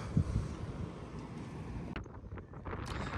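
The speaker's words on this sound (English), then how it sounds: "our first night at the campground was pretty windy" Steady wind buffets the microphone with a low rumble at a campground at Wahweep on Lake Powell, easing partway through into softer gusts and faint outdoor noise; no one speaks.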